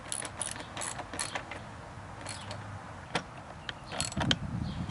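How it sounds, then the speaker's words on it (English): A hand ratchet snugging down the base of a Xitomer tail tidy kit on a 2019 Kawasaki Z650, outdoors: quiet bursts of rapid clicking against steady wind noise, fairly close but soft. "Alright, so tightening that base back down. And get it snug."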